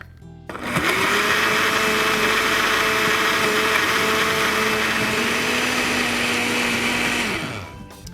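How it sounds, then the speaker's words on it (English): A blender churns a Herbalife Formula 1 shake with frozen mixed berries: a loud, steady motor whine with a grinding rush runs for about seven seconds, then stops. "Now I'm going to blend it up."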